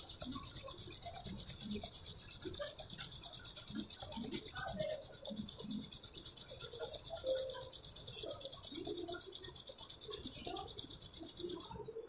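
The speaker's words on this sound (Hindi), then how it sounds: "अभी हम दोनों हाथों को आपस में रगड़ेंगे।" Two palms rubbed briskly together to warm them during a yoga exercise for the eyes, a steady, close, dry swishing friction that runs continuously for about twelve seconds with no talking.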